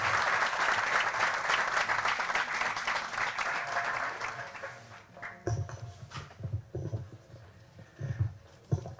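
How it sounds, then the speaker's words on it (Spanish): An audience at an awards ceremony in Ceuta gives strong applause, dense clapping for about five seconds that then thins into scattered claps and room noise. "le recibimos, por supuesto, con un fuerte aplauso."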